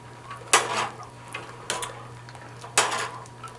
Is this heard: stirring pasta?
yes